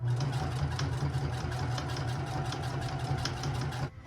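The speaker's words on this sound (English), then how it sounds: "now we just need to do a top stitch close to the edge of the fabric in each side" Sewing machine top stitching close to the fabric edge of a wristlet key fob, running as a steady close hum with an even rapid needle tick for nearly four seconds before stopping abruptly.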